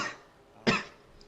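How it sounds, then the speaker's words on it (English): A person coughing after water went down the wrong way: a faint rough breath at the start, then one sharp, close cough a moment later, with quiet in between. "That was not a sneeze. That was me coughing."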